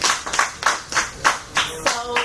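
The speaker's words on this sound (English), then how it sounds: "Everybody give Mr. Applewhite a hand clap." A classroom of students claps for a student teacher in a quick, steady rhythm of sharp hand claps, about eight distinct beats over two seconds, close and fairly loud.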